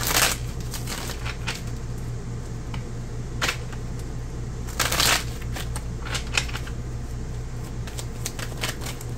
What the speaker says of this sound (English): Let's shuffle this.